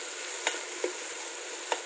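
Ginger, green chili and garlic being sautéed in a pan for Thalassery mutton biryani, with a steady close sizzle and three quick spoon scrapes as they are stirred.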